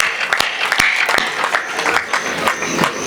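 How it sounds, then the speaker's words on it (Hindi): An audience at a Hindi poetry gathering (kavi sammelan) bursts into loud applause, dense clapping with sharp individual claps standing out nearby, sustained throughout. "एक बार जोरदार तालियां इस शानदार प्यारे से शहर के लिए।"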